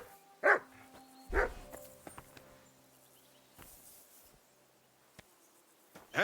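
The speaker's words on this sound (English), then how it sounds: "whistle at that mutt of yours to stop barking" A dog barks in Kingdom Come Deliverance II, with two sharp, loud barks near the start and another at the very end, set against quiet in-game ambience with light footsteps.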